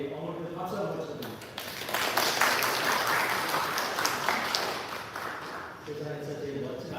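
A church congregation applauds the fathers present during a Father's Day service. Lively clapping builds over several seconds, with someone speaking before and after it.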